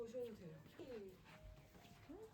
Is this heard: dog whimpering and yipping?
yes